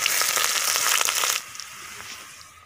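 Onion dropped into hot oil with dried chillies in a home kitchen, a loud crackling sizzle for the first second and a half that drops abruptly to a quieter steady frying hiss with a few pops.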